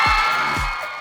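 Crowd at a Pride festival cheering and whooping for drag performers, a brief dense swell of voices with a few rising shouts close by.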